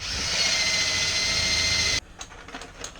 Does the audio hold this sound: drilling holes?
yes